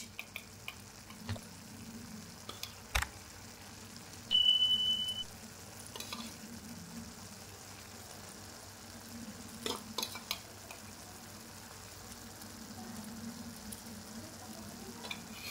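Spices fry in oil in a pan as three spoons of whipped sour curd go in, a faint steady sizzle with scattered clicks and taps of a spoon and one short high squeak, quiet and without talk.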